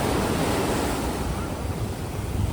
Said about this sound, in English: here you can hear how the waves are picking up and hitting the little pier area